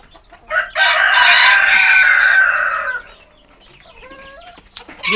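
A nearby rooster gives one loud, drawn-out crow. Clucks and short squawks from Silkie chickens and other hens follow.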